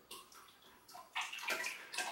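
Liquid clay slip dripping and trickling off earthenware pottery during slip decorating, a soft wet patter that swells into a fuller, splashier run of drips partway through, close and clear with no talking.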